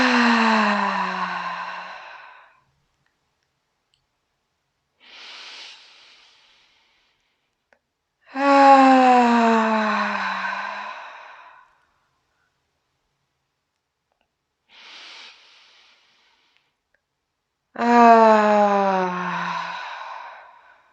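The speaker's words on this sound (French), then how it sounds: "Et expire d'abord. Inspire ensuite." A yoga breathing exercise brings three long, slow, voiced exhales like drawn-out sighs that fall in pitch, each followed by a softer, brief inhale, evenly spaced and close.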